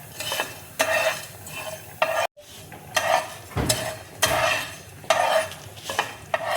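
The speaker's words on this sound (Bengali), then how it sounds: "এই মশলাগুলো দেখো আমি ড্রাই রোস্ট করে নেব" Whole spices including cinnamon, cardamom and cloves dry roasted in a pan with no oil, stirred repeatedly so they rattle and scrape against the metal in bursts, close and clear, with no talking.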